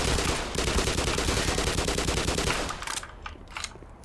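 An MP5 submachine gun in Black Mesa fires a rapid, steady automatic burst of loud close shots for nearly three seconds, then stops, leaving a few scattered fainter shots and clicks.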